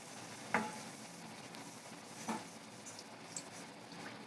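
Red rice idli batter bonda frying in hot oil in a kadai gives a faint, steady sizzle with a few soft stirring taps and scrapes, close by and without talk.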